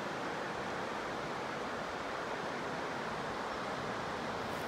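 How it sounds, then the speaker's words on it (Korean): A flowing creek along a blossom-lined country road in Hadong, a steady, even rush of water with no breaks. "흘러가는 냇가 물소리는 개남이 없지 않습니까"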